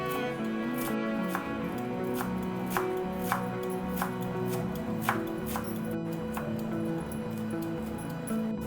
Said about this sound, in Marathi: स्वच्छ धुवून घेतलेली कोथिंबीर घ्यायची, ती देखील बारीक चिरून घ्यायची